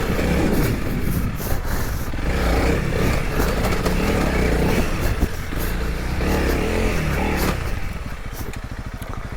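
A 2022 Honda CRF300L motorcycle engine revs hard and close for several seconds, loud and continuous with a rough, rising and falling note and some mechanical clatter.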